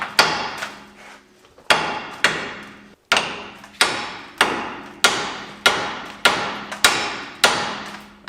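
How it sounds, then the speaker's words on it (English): A hammer strikes the side of a worn Ford F250 truck tie rod again and again with sharp metallic blows, about ten in all. The first hits come hesitantly, then the rest arrive in a fairly even rhythm, each one loud and close and ringing out briefly. "we're simply going to take a hammer and strike the side of this, and it should release that"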